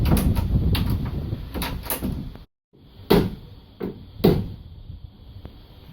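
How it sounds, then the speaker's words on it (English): A hotel room door is being worked at the lock, its bolt not lining up: a run of sharp rattling clacks and knocks, a brief silence, then several louder isolated thuds and clicks close by. "We're having an issue trying to lock our door."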